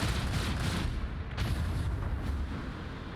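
Strafing gunfire in Warhammer 40K Rogue Trader, a dense continuous barrage of booming shots and rumbling impacts, loud and sustained with no pauses.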